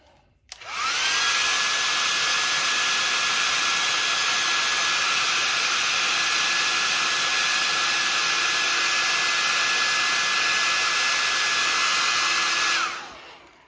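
A hot air blower heat-setting paint on a custom yellow perch crankbait switches on abruptly and runs in a loud, continuous whooshing whine with a steady tone for about twelve seconds before cutting off.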